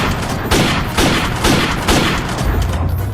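Rapid gunfire bursts from the video game Free Fire, loud and close, repeating in regular volleys about every half second with booming low end throughout.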